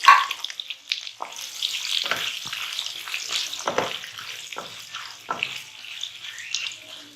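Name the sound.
onions frying in a pan for vegetable ishtu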